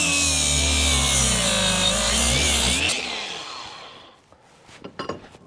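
Angle grinder fitted with small thin discs cutting metal, a loud steady whine for about three seconds that spins down and stops, followed by faint clatter and handling noises.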